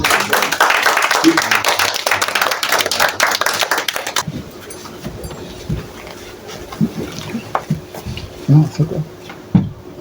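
A church congregation claps and acclaims the Lord, with loud applause and voices for the first few seconds, then fading to scattered taps and murmuring.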